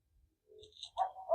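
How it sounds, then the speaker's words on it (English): A neighbor's dog barks at night outdoors, heard as a couple of short, faint, distant yips and woofs in the background. "My neighbor lets his dog out, and that son of a gun barks"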